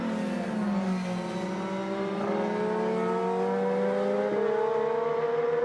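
An IndyCar engine screams through a qualifying lap at Road America, loud and continuous. Its pitch climbs steadily through the gears with a brief dip, and no one talks over it.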